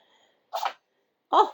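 A cat sneezes twice, small and sharp, close by, separated by a short silence.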